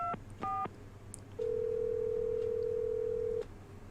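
A telephone call being placed: two quick dialing tone bursts, then a single long steady ringing tone lasting about two seconds, clear and close with no talk.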